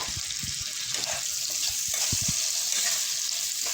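Chopped tomatoes hit a pan of frying salted onions for a chicken dish, giving a steady, close, bright sizzle with small stirring clatters and no one talking.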